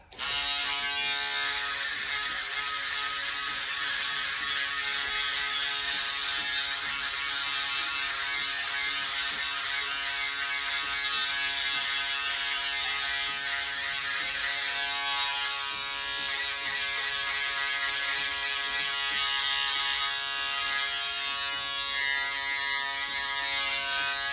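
An electric hair trimmer cuts stubble during a haircut, giving a continuous, close, even buzzing drone that holds steady for the whole stretch with no voices.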